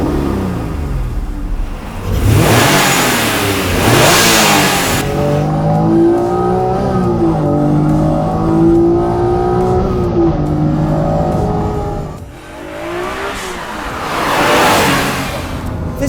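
A Honda NSX Type R (NA2R) engine pulls hard while driving, its rising whine climbing through the gears in several surges with brief dips at the shifts, loud and close from inside the car.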